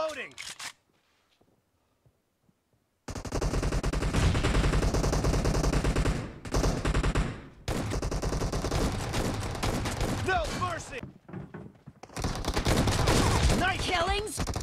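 An S12K shotgun fires in PUBG Mobile in dense, loud bursts of repeated blasts that run over long stretches, broken by brief gaps, with game voice prompts and talk mixed in.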